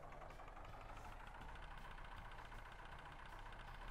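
A steady, looping tractor engine drone from a farming simulator video game, a constant low rumble with a faint rhythmic knock throughout.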